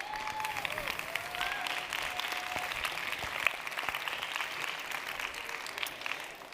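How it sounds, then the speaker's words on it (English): A conference audience applauds the Minuit 12 dance collective with sustained, lively clapping, a few faint voices and whoops rising over the steady wash of hands. "Big applause for Minuit 12."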